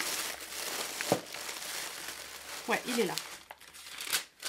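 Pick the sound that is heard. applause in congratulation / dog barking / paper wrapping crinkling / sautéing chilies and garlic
paper wrapping crinkling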